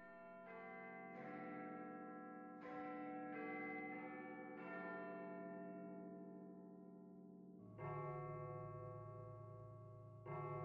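Church bells ring out from a bell tower in a series of long, sustained strikes, each tone decaying slowly before the next; several overlapping peals, heard alone and fairly faint.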